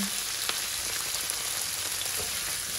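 Bitter gourd (ampalaya) sautéing with egg in a pan gives a steady close sizzle and crackle, with occasional soft scrapes of stirring and no talking.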